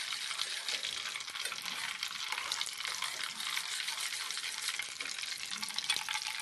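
Butter heating in a pan for sweet wheat-flour crêpes, not quite browned, sizzling and crackling in a steady, bright, continuous hiss close by with no one talking.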